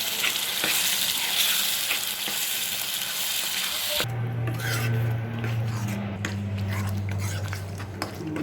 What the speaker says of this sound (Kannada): ಈಗ ಇದಕ್ಕೆ ಟೊಮ್ಯಾಟೊ ಹಾಕೋಣ. ಚೆನ್ನಾಗಿ ಮಿಕ್ಸ್ ಮಾಡಿ.